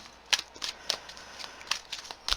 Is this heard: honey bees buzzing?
no